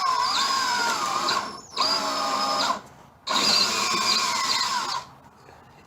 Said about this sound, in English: We're going to pre-drill a couple holes.